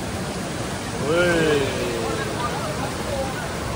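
A waterfall at a natural swimming pool gives a steady broadband rush close by, while a voice calls out briefly over it partway through.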